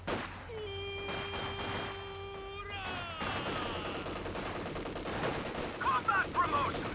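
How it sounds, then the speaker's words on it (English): An MG34 heavy machine gun firing in a competitive real-time strategy video game match, a steady rattle of automatic fire blended with tonal in-game sounds and other battle noise at moderate loudness. "It's only the MG34."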